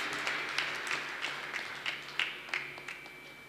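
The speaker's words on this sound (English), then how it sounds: "Please give sir a hearty round of applause as he arrives to deliver his priceless remarks." An audience claps for a college director at a formal event, a faint, distant patter of hands in a few uneven bursts over a quiet room hum.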